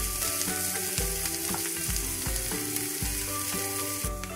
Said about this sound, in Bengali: পেঁয়াজগুলো হালকা গোলাপি করে আমি মোটামুটি 3 থেকে 4 মিনিট মতন লো টু মিডিয়াম আঁচে ভেজে নেব।